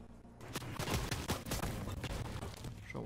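Rapid bursts of video game gunfire crackle in a steady barrage, distant and fairly quiet, with sharp individual shots over a continuous background rumble.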